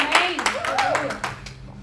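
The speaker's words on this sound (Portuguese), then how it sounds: "dá uma salva de palmas para Jesus" A congregation claps at a church service with a Psalm 23 prayer, several short bursts of clapping under a preacher's voice.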